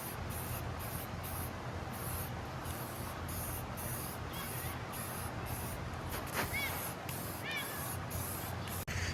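Spray paint hisses from an aerosol can in repeated short bursts, a steady rhythm of pressurized spraying as a second coat goes onto a truck, fairly quiet and close with no talking.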